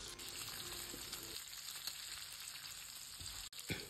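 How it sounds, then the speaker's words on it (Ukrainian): Sliced chicken gizzards sizzle in a heated frying pan while their water cooks off: a steady, soft crackling hiss with small pops, heard alone and fairly faint throughout. "у нагріту сковорідку я висипаю нарізані пупки і смажу, поки не випарується вся вода"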